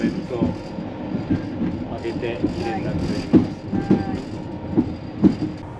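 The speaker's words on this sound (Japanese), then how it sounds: "バランポーン駅に入ってきました" A Thai sleeper train pulls into Bangkok's Hua Lamphong station with a steady rolling rumble and a run of rhythmic wheel clacks over rail joints. Faint voices sit under the rail noise.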